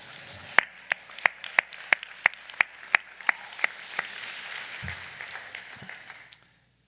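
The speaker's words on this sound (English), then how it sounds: "If I can give yourselves a round of applause too" Graduates at a Master of Public Policy graduation ceremony applaud themselves: a run of sharp, evenly spaced claps stands out at first, then spreads into a wash of crowd applause that fades away.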